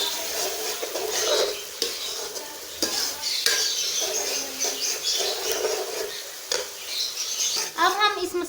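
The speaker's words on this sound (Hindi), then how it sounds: "हमने इसके अंदर टमाटर और लहसुन अदरक का पेस्ट शामिल कर दिया। इस तरह अच्छी तरह से मिक्स कर लेंगे तमाम चीज़ों को।" A spoon stirs browned onions with tomato and ginger-garlic paste in a pan, giving continuous close scraping and clinking over a steady sizzle, with a faint voice in places.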